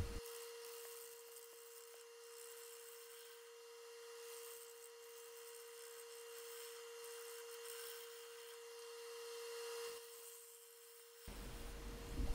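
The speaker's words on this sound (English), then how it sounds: "starting with the Carter & Son bowl gouge here, trying to true it up" A Carter & Son bowl gouge scrapes and cuts against an out-of-balance resin bowl spinning on a lathe at about 300 RPM, a faint steady rasping hiss over a constant motor hum.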